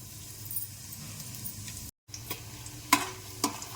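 Whole garam masala spices dropped into hot ghee and oil in a pan, giving a steady low sizzle with a short gap and a couple of sharp clinks of a spoon against the vessel near the end.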